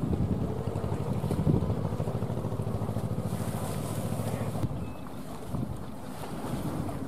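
Trawler boat from Ben Tre approaching a pier at sea, a steady low engine drone with wind buffeting the microphone and water washing, continuous and fairly close.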